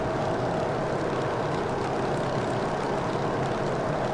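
A Grumman F3F propeller plane's engine drones steadily in Microsoft Flight Simulator. The hum is continuous and even, fairly faint, with no voices.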